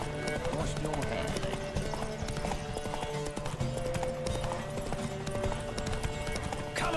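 Galloping horse hooves clip-clop steadily throughout a horse race in The Witcher 3: Wild Hunt, loud and continuous, with game music and a voice speaking over the hoofbeats.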